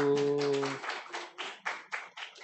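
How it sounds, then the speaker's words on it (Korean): Church congregation at a Friday prayer meeting in Yeongdeungpo clapping hands together in welcome: a sustained tone fades early, then a run of loud, close, fairly regular group claps in bursts follows, with no talk over them. "박수."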